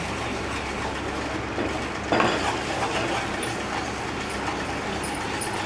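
Gram flour and Kashmiri chili powder roast in ghee as a spoon stirs steadily, a continuous low scraping hiss with one brief louder scrape midway.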